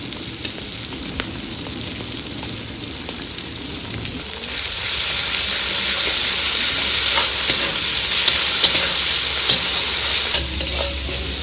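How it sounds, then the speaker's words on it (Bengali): Onion, ginger, garlic, green chillies and tomato fry in a pan with a constant close sizzle that grows louder partway through, while a utensil scrapes and stirs now and then. "পেঁয়াজ আদা রসুন কাঁচা লঙ্কা আর টমেটো ভাজা হয়ে গেছে"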